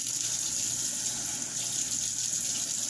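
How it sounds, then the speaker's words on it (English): Tap water runs steadily into a sink while it is washed out with Dawn dish soap, a constant close hissing splash with no voices. "I just wash it out with this Dawn."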